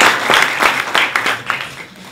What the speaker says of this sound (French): Et je voudrais qu'on l'applaudisse pour cette haute distinction.